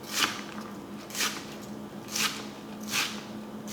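A knife slices through half an onion on a kitchen cutting board while an oxtail stew is being prepared, giving four evenly spaced, moderately loud chopping strokes over a faint low hum, with no talking.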